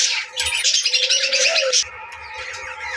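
A yellow budgerigar calls from inside a cage, a close, busy stream of chirps and warbling tweets that runs almost without pause, with a few soft knocks and rustles underneath.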